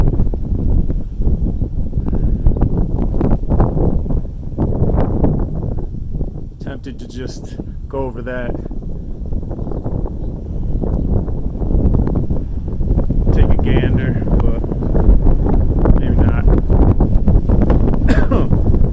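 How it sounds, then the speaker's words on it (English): Strong wind on a mountaintop buffets the microphone in heavy, continuous low rumbling gusts, loud and close, while someone talks over it. "the wind is pretty strong up here right now"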